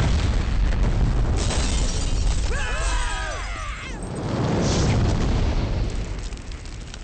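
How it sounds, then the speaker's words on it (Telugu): A bomb blast in a Telugu action film scene: a heavy, sustained roar and rumble, with a pitched whistling sweep partway through and a second swell of noise near the end. "బాంబు చెప్పుల్లో వెళ్తుందిరా. కరెక్ట్ గా 8 seconds లో పేలద్ది."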